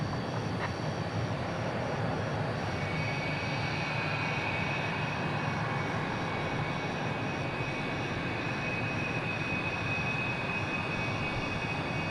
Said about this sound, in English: UAE 996063 Emirates Sky Cargo to Los Angeles on this 777 freighter.